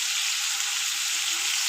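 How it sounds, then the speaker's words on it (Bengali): Spices for a soybean and potato curry frying in a pan, a steady, close, dense sizzle throughout, with no talking. "এই যে মশলাটাকে ভালো করে ভেজে নিচ্ছি"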